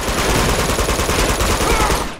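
Rapid gunfire from the video game Uncharted 2: Among Thieves, a dense, continuous burst of loud automatic shots rattling without pause throughout, with no talk over it.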